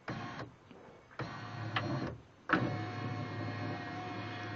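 A car power window regulator motor whirs in several starts and stops, a steady mechanical drone that cuts out and resumes, close up with clicks at each change.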